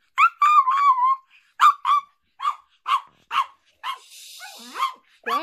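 A Pomeranian barks close and loud in a run of sharp, high yips, some drawn out into whining cries, with a short whistle-like squeak near the end.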